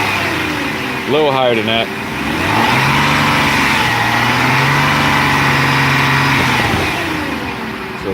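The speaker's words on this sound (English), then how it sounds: "hit the gas pedal a couple times just to rev it up." A Jaguar car engine is revved a couple of times with rising and falling pitch sweeps, then settles into a steady, loud idle for several seconds, with a person speaking briefly over it.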